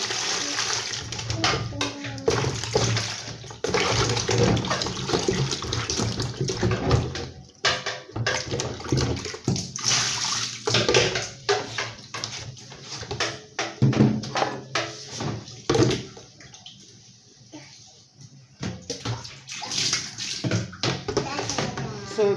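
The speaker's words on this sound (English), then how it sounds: "I've peeled the plantain. I'm going to wash it." Peeled plantain rinsed under a steady stream of running tap water, a continuous splashing wash that surges and dips, with voices talking over it.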